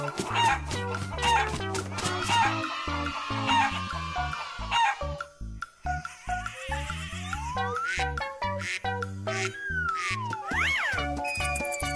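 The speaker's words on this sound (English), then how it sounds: "Chicken." A cartoon chicken clucks and crows through a busy stretch of animated animal sounds mixed with music, loud and close.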